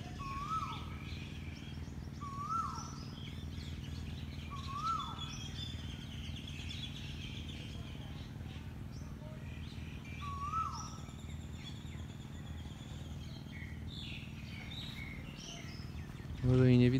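Birds sing on Ko Mook island, Thailand: a few short rising whistled calls repeat at intervals over a constant low hum and faint chirping background, fairly quiet and distant.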